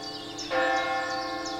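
A single church bell stroke rings at a cliffside forest sanctuary, struck once early and left to hum and decay steadily, with soft bird calls in the open-air background.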